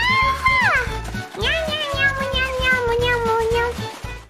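A youthful voice imitates an angry cat, giving a couple of drawn-out, wavering meow-like cries in quick succession, close and loud.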